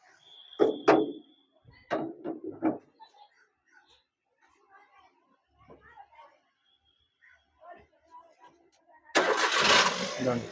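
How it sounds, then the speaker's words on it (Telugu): A 2011 Maruti Suzuki WagonR petrol/CNG car starts on a single crank, its engine catching and running loudly up close at the end, after stretches of talking and quiet. "సింగిల్ సెల్ఫ్ అయితే బండి అయితే స్టార్ట్ అవుతుంది చూసారు కదా"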